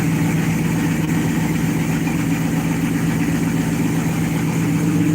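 A Mopar car's engine, rated around 378 horsepower and 373 pounds of torque, idles steadily and loudly close by with a deep, even rumble throughout.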